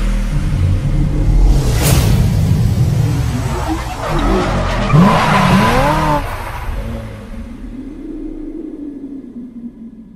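Ferrari and McLaren supercars, including 458, 488 and 720S models, arriving on a desert racetrack, with loud engine roar, a sharp tire squeal and revving passes that fade into a lower rumble as the cars move off.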